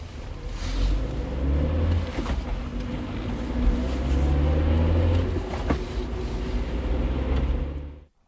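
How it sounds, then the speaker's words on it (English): A car engine runs and pulls away in a radio drama, a steady low rumble rising and swelling as it drives off before cutting out abruptly at the end. "She walks towards the car and drives off."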